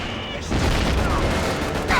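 Gunfire crackles in a Call of Duty: Finest Hour battle, a dense rattle of shots that thickens after the first half second and holds steady, with a brief extra surge near the end.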